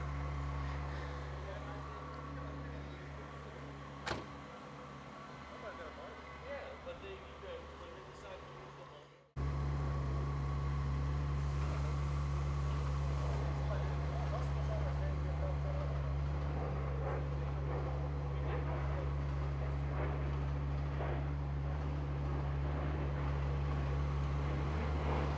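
A 2003 Ferrari 360 Spider engine drones steadily while driving, close and loud, rising to a fuller, stronger roar partway through and holding there.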